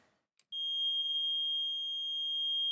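A smoke alarm on a narrowboat gives one continuous, loud, steady high-pitched test tone after a short click, sounding alone close by for over two seconds.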